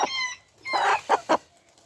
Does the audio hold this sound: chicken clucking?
yes